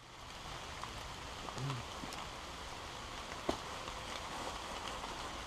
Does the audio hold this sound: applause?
no